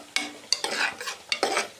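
Ginger and garlic masala sizzles in a pan as a utensil stirs it in several quick scraping strokes, close and rhythmic over the steady frying.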